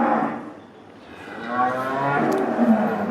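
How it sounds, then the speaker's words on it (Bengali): Cows low in a dairy farm shed holding heifer calves and pregnant cows, a drawn-out moo rising and swelling over steady barn ambience, fairly close with a faint bright clink near the end. "এই যে শেডগুলোর ভিতরে ওনাদের অসংখ্য বকনা বাচ্চা এবং প্রেগনেন্ট গরুগুলো রয়েছে"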